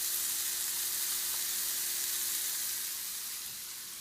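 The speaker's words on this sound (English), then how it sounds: "You can hear them sizzling in the hot butter." Steak sizzles in hot butter in a pan, a continuous bright crackling hiss that fades slightly toward the end, close by with no talking.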